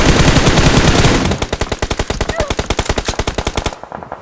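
Rapid automatic gunfire in a competitive battle royale shooter game, a loud continuous burst at first followed by a steady run of distinct rhythmic shots, all without any talk over it.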